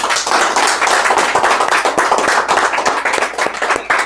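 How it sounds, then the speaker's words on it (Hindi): An audience at a training session claps together, a dense, loud, continuous round of applause with crisp individual hand claps, no speech. "एक बार रेखा मैम के लिए जोरदार ताली होनी चाहिए।"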